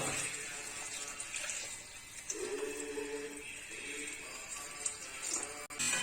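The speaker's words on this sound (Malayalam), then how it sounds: "ഞാൻ ഇവിടെ വെള്ളം തിളപ്പിച്ച് വെച്ചിട്ടുണ്ട് അത് ചേർക്കാം തിളച്ച വെള്ളം" Boiled water pours into a pot of sweetcorn and cheera (spinach) pulao, a steady splashing gush running close by for several seconds with no talk.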